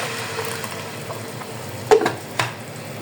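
Garlic and ginger paste frying with onions in a pan for aloo choliya sabzi, a soft steady sizzle with a couple of sharp clinks of a spoon against the pan.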